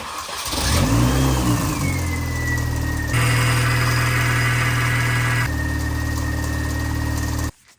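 A Mini convertible, just fitted with a new belt, cranks and fires up, its engine revving up then settling into a steady idle with a high whine before shutting off abruptly; loud and close, no talking.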